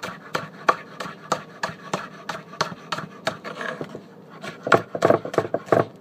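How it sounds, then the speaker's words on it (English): A knife chops green onion on a cutting board while a breakfast mushroom omelet is prepared: a steady run of crisp, close blade strikes, speeding into denser taps near the end. "As you see, I'm cutting the green onion"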